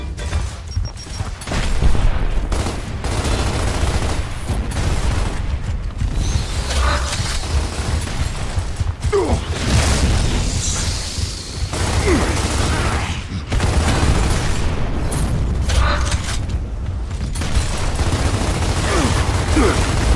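Propane tanks are shot and explode in the Gears of War video game amid a dense battle din of rumbling booms, gunfire and mechanical clanks, with voices shouting over the chaos.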